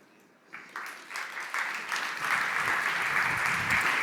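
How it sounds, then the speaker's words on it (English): An audience claps after a startup pitch at a founders' competition, starting as a few scattered claps and swelling within a couple of seconds into steady, fairly distant applause that holds to the end. "Round of applause"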